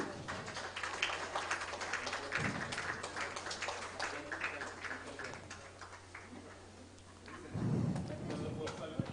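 An audience applauds Rajam Shankar at a music therapy centre event with soft, quiet, steady clapping under a low hum, followed by a brief louder rustle near the end.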